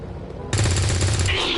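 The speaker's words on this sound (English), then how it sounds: "I am going to shoot at the officer" Gunshot fired at an enemy officer in the video game XCOM 2, a loud close burst of rapid automatic fire lasting about a second that cuts in suddenly after quiet game ambience.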